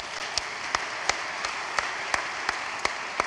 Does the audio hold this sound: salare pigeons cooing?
no